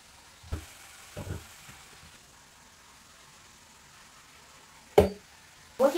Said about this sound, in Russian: И когда я добавила все шампиньоны, я помешиваю их.